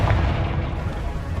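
A Confringo blasting spell erupts in Hogwarts Legacy, a loud, dense booming explosion that rumbles steadily through the whole short moment with heavy low-end weight.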